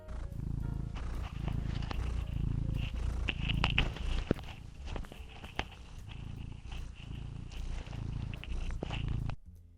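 A steady, low rumbling purr from a cat being petted, close to a tiny mic, continuing throughout with scattered soft rustles and bumps.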